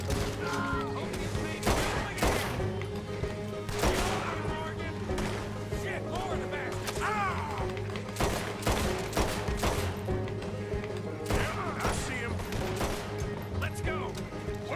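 Repeated gunfire in the Western video game Red Dead Redemption 2, with sharp shots and rapid bursts popping every second or two over game music and background noise, while voices talk throughout.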